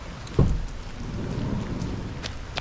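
Steady rain falls during an outdoor walk with a dog in a storm, with a low rumble of thunder swelling briefly near the start over a continuous wash of rainfall.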